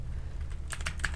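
Typing on a computer keyboard while entering a command prompt instruction: a short run of crisp, close key clicks in an uneven rhythm over a low background hum, with no one talking.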